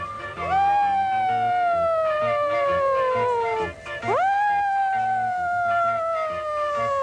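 Children's voices imitate a siren with long rising and falling wails, two sustained sweeps in a row, loud and close.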